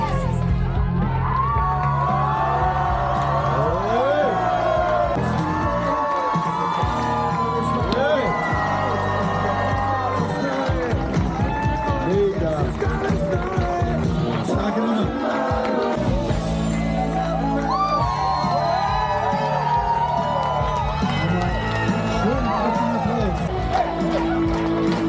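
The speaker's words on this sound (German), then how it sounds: "Einen starken Applaus für Platz Nummer 3" A crowd cheers, whoops and shouts at a school dragon boat championship award ceremony in Schwerin, in lively bursts mixed with an announcer's talk throughout.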